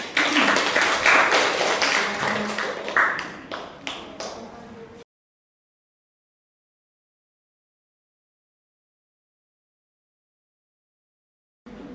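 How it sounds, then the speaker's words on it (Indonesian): Students in a classroom clap in a brief burst of scattered hand claps, close and lively, fading out over a few seconds before silence. "Kasih tepuk tangan"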